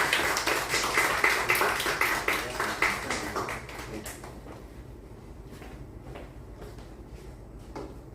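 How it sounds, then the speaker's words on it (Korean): A small audience at a church service claps together for members' birthdays. The dense clapping fades into scattered single claps after a few seconds. "박수 좀 쳐주세요."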